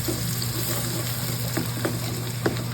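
Shrimp paste being sautéed with garlic and onion in leftover oil from frying galunggong fish, a steady close hiss of hot oil with a few faint clicks and stirring taps and a low background hum.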